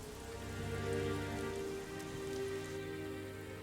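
Steady rain pattering on surfaces in Devil May Cry 3, a dense continuous shower mixed with a layered tonal game soundtrack, fairly quiet and without speech.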